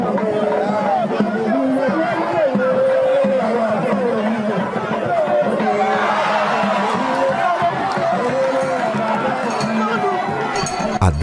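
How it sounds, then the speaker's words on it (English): An excited crowd of spectators at a traditional wrestling festival fills the air with dense, continuous chatter and shouting, many voices overlapping loudly close by. "excited crowd of spectators"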